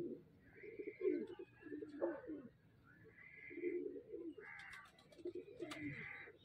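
Golden pigeon cooing in repeated soft, low phrases at close range, with someone talking faintly in the background between the coos.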